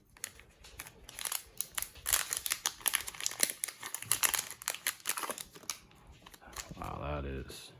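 Crinkling and tearing of packaging as an aluminum front grille for a TRX-4M Defender RC car is unwrapped, a dense run of close crackles and snips, followed by a short burst of speech near the end.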